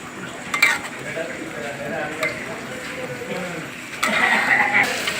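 Eggs sautéing in a pan for egg biryani, a steady sizzle with scraping stirs and occasional clinks of a utensil against the pan, close and fairly loud.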